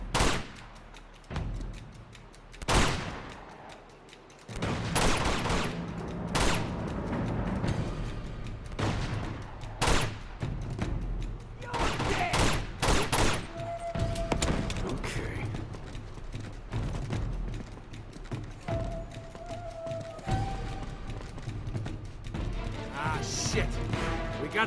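Sniper gunfire in Uncharted 2 cracks out in sharp, irregular shots amid crashes, clanks and creaks during a tense firefight, with speech mixed in.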